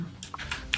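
Rapid clicks of a computer keyboard and mouse during a PC action game run, a quick burst of close, crisp keystrokes over a faint background.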